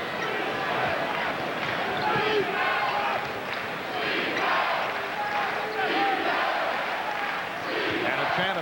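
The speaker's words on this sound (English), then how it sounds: "a chant of defense from the crowd" An arena crowd at a New York Knicks versus Philadelphia 76ers NBA game chants in rhythmic waves, a dense roar rising and falling in repeated pulses with basketball bounces faintly audible beneath, sustained throughout.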